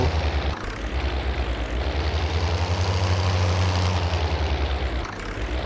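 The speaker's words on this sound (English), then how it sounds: "This tractor's got to go." A tractor engine in Farming Simulator 19 drones steadily with a low, throbbing hum, loud and close throughout with no voices, dipping slightly near the end.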